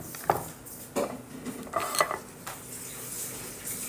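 A spoon clinks against dishes while sugar is added, several light metallic taps and scrapes spaced irregularly, close and fairly quiet over a soft background hiss.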